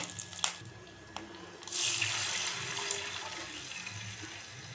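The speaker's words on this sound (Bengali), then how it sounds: "মশলাটা কষে হয়ে গেছে, এবার আমি জল দিয়ে দেবো।" Water is poured into a pan of fried spice paste while cooking a Bengali mourala fish curry with mustard and poppy seed; after two short clinks a steady close gush of pouring water starts and continues to the end.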